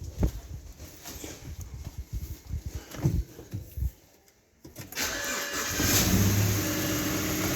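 A BMW E90 320i engine, fitted with new spark plugs and 230,000 kilometres on it, cranks and sputters unevenly, falls quiet briefly, then catches and settles into a loud, steady running drone close to the microphone.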